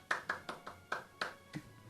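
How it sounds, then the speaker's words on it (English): A small audience claps in a quick, uneven burst of about seven sharp claps, close and fairly light, with no talking over them. "That was our audience claps."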